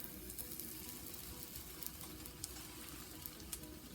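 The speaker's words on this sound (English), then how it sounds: "We're going to scoop the batter right on the griddle." Buttermilk pancake batter sizzling on a hot griddle, a steady soft frying hiss with faint crackles and pops, quiet and close with no talking.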